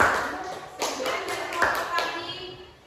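A classroom group claps for its classmates, a short burst of scattered hand claps from several people with distinct taps, mid-distance, while a teacher's voice talks over it.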